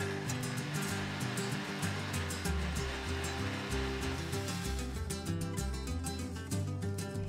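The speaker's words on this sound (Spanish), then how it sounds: "Agregamos al vaso de la licuadora 1/3 de taza de agua, la cebolla y los ajos cortados en trozos y licuamos" A kitchen blender grinds a third of a cup of water with chunks of onion and garlic, a loud continuous motor whir with a buzzing hum and churning liquid roar throughout, no voices.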